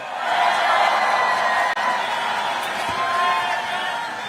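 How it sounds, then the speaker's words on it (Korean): A large crowd at an outdoor presidential campaign rally in Gyeyang, Incheon, claps and cheers in a dense, sustained roar that stays loud throughout. "박수로 맞이해 주십시오"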